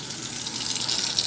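Water poured from a little above into a pot of Aldi risotto rice, a steady close gushing splash that runs without a break for the whole short moment.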